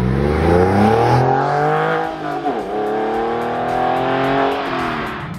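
A Porsche 911 accelerates hard and loud, its engine climbing steadily through the revs, dropping briefly at a gear change, then climbing again, heard close with no talking.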